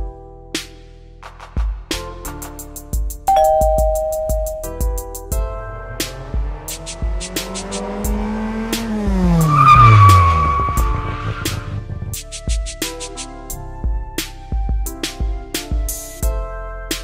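A car skids and squeals its tires while driving wildly, the engine revving and sweeping up in pitch mid-clip, with sharp bangs and thumps around it and no voices.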